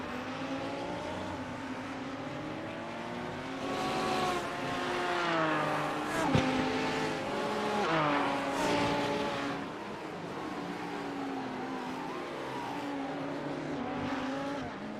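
Pink Panther Racing Porsche race car in a sim racing 24-hour event at Zolder, engine howling at high revs with rising and falling pitch through gear changes, one sharp click midway, loud and continuous with no speech.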